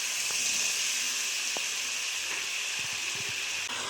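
Spice masala mix frying in hot oil for a vegetable gravy, a steady loud hiss and sizzle with occasional spoon clicks against the pan and no voices.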